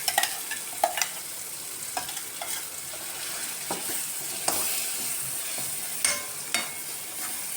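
Ingredients for sesame chutney sautéing in a pan, a steady sizzle with repeated scraping stirs and clicks of a spoon throughout, close and continuous, no talk.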